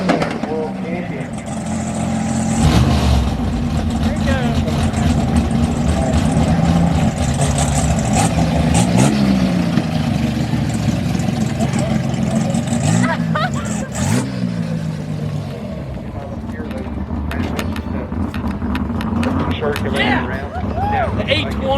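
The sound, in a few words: drag racing car engine revving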